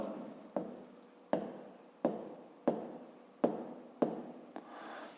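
A pen writes by hand on paper while working a math exercise, producing a series of close, distinct strokes in a rhythmic sequence about every second, quiet and with no talk over it.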